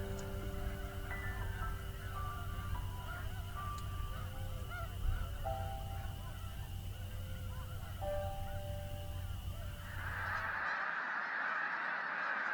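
Tundra swans calling from a large winter flock, a dense continuous chorus of overlapping honking notes at a distance over a steady background hum.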